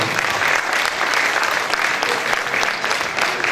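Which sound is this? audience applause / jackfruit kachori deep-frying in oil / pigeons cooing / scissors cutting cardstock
audience applause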